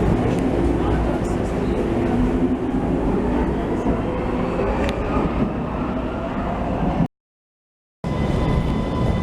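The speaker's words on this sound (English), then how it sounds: "Here is our U1 train." A U1 subway train rumbles and rolls through an underground station, loud and continuous with rattling wheels, briefly cut off near the end.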